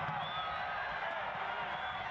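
A Fresno FC soccer crowd fills a stadium with a steady, distant murmur of many voices and a faint cheer, a continuous wash of noise heard from afar.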